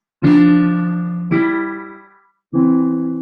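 Three sustained piano notes, each struck and left to ring, the last one cut off at the end, played alone with no talking.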